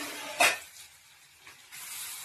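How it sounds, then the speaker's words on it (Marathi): Grated carrots hitting hot ghee in a kadhai for gajar halwa give one sharp hissing burst, then a quieter, uneven sizzle that rises again near the end. "तूप टाकल्यानंतर हे किसलेले गाजर"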